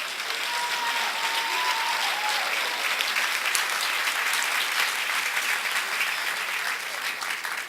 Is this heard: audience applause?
yes